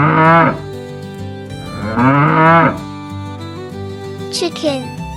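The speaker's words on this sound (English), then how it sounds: "Cow," Cow on a farm mooing twice in long, drawn-out calls, loud and close, followed by a short higher sound at the end.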